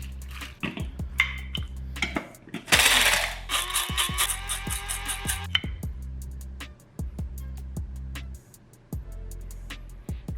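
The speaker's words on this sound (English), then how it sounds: "So let's put these in the spice grinder." Dried chilies are ground in an electric spice grinder, with bursts of whirring and rattling between sharp clicks and clatters of handling, heard close up in a kitchen.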